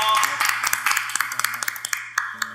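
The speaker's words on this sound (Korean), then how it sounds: "우리 김동현 선생님께 큰 박수로 인사드리겠습니다" At a Korean lecture show on Jeju water and folklore, a small audience claps for the lecturer, with sparse, distinct hand claps ringing out in a loose, uneven rhythm over a steady low hum.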